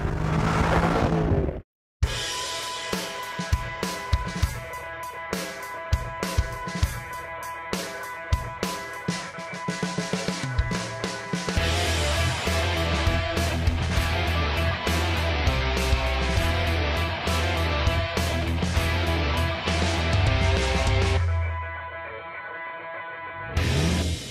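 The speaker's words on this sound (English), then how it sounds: "Sometimes you just want to watch a car and listen to its engine." A Chevrolet Camaro Z28's engine and exhaust rumble and rev close up, with sharp throttle blips and a sustained deep drone that swells and then cuts off near the end.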